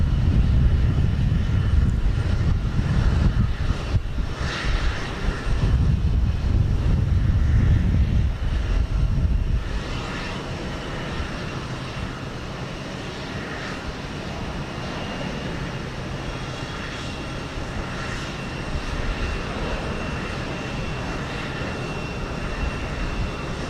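A 31-year-old Boeing 757-200 departing Houston Intercontinental, its engines roaring heavily at first, then easing after about ten seconds into a quieter, fading whine and rumble as it climbs away.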